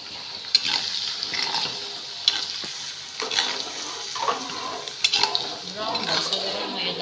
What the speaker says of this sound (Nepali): अदुवा लसुन ब्राउन हुने गरी फ्राई गर्ने